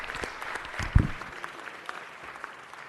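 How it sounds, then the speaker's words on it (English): Applause rises at a city council meeting honoring a veteran, a short burst of clapping with one sharp loud clap near the middle, fading into a murmuring room. "So let's give him another round of applause."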